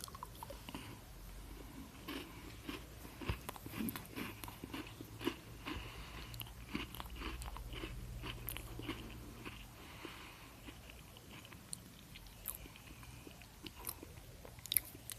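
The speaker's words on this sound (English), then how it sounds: "if you don't like the sounds of chewing or crunching, please adjust your volume now" Someone chews and crunches a Cadbury Dairy Milk biscuit close to the mic, making soft, irregular crunches and wet chewing noises at low volume.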